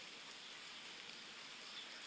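Light rain falls as a steady, soft, even hiss with no distinct drops or talk.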